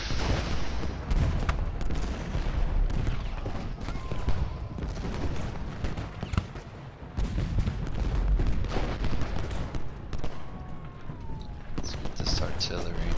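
Battle in Ultimate General: Gettysburg with repeated booming artillery fire and crackling volleys of gunshots, dense and continuous, with speech mixed in.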